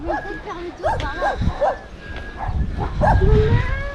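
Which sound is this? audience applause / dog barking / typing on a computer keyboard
dog barking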